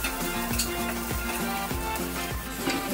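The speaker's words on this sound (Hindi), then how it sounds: "अभी स्टार्ट कर रहे हैं वेजिटेबल सौते करना। इसको ऑलिव ऑयल में अच्छे से मिक्स कर लिया" Vegetables sauté in olive oil for a paneer salad, a dense continuous sizzle with rhythmic clinks of stirring against the pan, close and loud, no talking.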